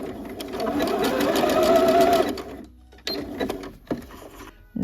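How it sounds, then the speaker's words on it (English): A sewing machine backstitches a jogger pants seam, whirring loudly up close for a couple of seconds, then stopping and giving a few short bursts. "Make sure you back stitch."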